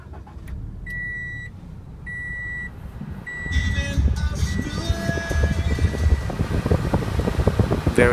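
A 2014 Scion FR-S Monogram Series with aftermarket exhaust, heard from the cabin: repeated warning chimes give way to the engine cranking and catching at about 3.5 seconds, then a steady, fairly loud idle to the end.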